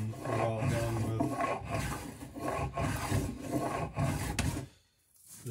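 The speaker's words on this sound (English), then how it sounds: "we'll probably hit this with the sander" A sander works the wooden stem of an 1890s-style cruising dinghy under construction, giving a close, rough grinding rasp in rhythmic strokes that stops briefly near the end before resuming, with no talk.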